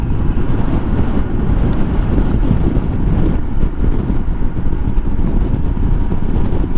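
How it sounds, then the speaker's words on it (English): Steady, loud wind buffeting the microphone with a continuous low roar beside a Royal Enfield Himalayan 411 motorcycle, no voices, gusting slightly throughout. "it's definitely a bit windy here again now"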